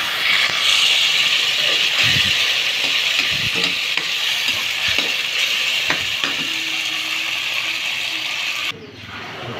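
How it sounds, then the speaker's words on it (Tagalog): Garlic and onion with sardines sautéing in a pan, giving a loud, steady frying sizzle close up, with occasional spatula taps and scrapes before the sound abruptly drops near the end. "nagigisa na tayo ng bawang sibuyas"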